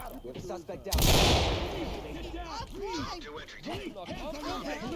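A sharp gunshot rings out in the Ready or Not tactical shooter, a loud burst with a short decaying tail, followed by game sound effects and voices talking throughout.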